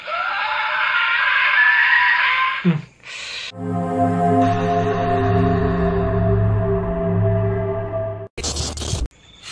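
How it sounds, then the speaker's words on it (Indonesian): Harsh, piercing scream from the SCP-096 creature, loud and sustained for nearly three seconds, followed by a deep droning harmonic wail and a final sharp burst of noise. "SCP-096 akan mulai menutupi wajahnya dan seketika itu juga dia mulai berteriak"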